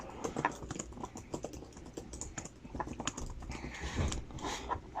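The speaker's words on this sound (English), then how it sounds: "you can start typing out your email" Steady, rapid typing of an email on a computer keyboard, with close, dense clicking keystrokes throughout and no talk.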